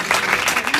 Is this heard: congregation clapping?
yes